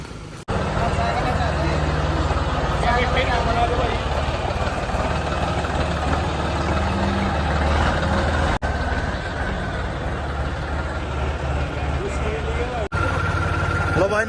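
A John Deere 5210 tractor engine runs at a steady idle, a low continuous rumble close by, with people talking over it throughout.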